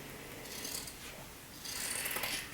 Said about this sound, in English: So we're gonna cut our seam allowance